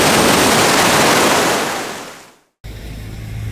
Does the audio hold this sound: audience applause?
no